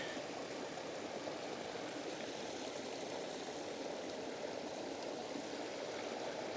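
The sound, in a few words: small woodland creek flowing, starting to freeze over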